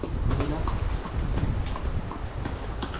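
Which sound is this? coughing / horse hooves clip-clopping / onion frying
horse hooves clip-clopping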